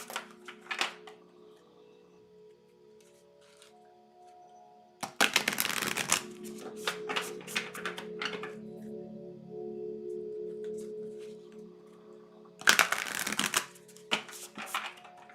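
Moonology oracle card deck being shuffled in two close, crisp bursts of riffling and flicking cards, separated by quieter stretches of low room hum.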